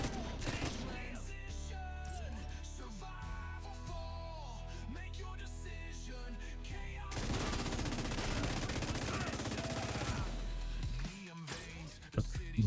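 Light machine gun fire in the video game Division 2, sustained automatic bursts that grow dense and loud in the second half, with game music and effects underneath and a voice talking.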